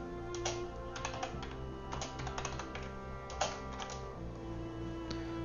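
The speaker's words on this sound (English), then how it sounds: "while I'm typing here" Rapid bursts of typing on a computer keyboard, close and fairly quiet, with irregular clusters of key clicks and short pauses over a low steady hum.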